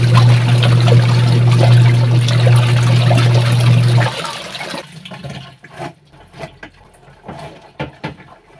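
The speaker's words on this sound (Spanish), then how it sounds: "Entonces voy a dejar que siga enjuagando y ya regreso para centrifugarla y engancharla." A washing machine rinsing clothes gives a loud, steady rush of running water with a low hum, then cuts to softer trickling, sloshing and dripping sounds.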